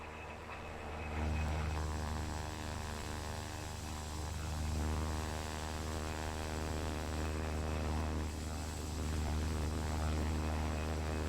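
Propeller engine of an A-29B Super Tucano aircraft in a video game, a steady droning hum with a constant tone that holds for the whole stretch, loud and close with no voices.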